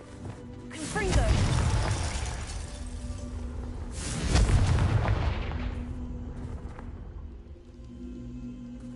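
Two heavy Confringo explosion spells in a Harry Potter game played on PS4 go off a few seconds apart, each a loud, crashing boom that rumbles and trails off.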